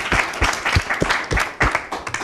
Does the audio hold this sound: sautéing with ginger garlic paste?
no